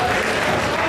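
Dense, steady applause from a crowd at a Street Fighter 3.3 tournament final fills the whole moment, loud and close, with no pauses.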